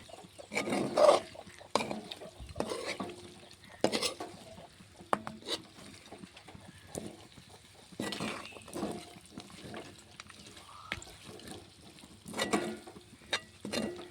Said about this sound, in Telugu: కారం ముక్కలకు బాగా కలిసేట్టుగా ఒకసారి మొత్తం కలుపుకుంటా